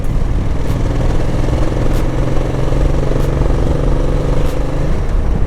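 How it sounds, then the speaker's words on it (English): A Ducati motorcycle engine growls with a raspy, steady note while being ridden, loud and continuous throughout with a rising pitch near the end. "The engine is so raspy. Raspy in the manner in which it growls."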